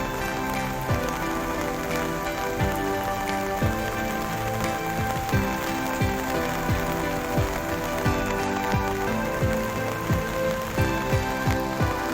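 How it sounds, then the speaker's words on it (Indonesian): Heavy rain with wind pouring down on an open night market field, a dense continuous roar of drops hitting tents and surfaces, steady and loud throughout with no voices. "Di lapangan hujan angin guys"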